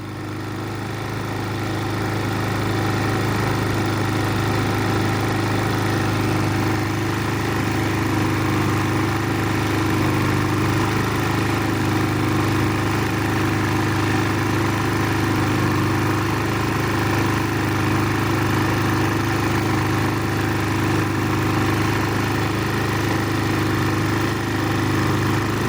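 A Predator 3500 portable generator engine runs continuously, a loud, close, steady mid-pitched drone with only slight wavering in speed throughout.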